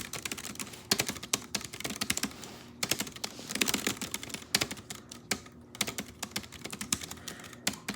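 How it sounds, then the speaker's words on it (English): Rapid, close tapping of keys on a Bluetooth keyboard, crisp clicks in irregular bursts with short pauses between runs, fairly quiet and alone without any voices. "Bluetooth keyboard."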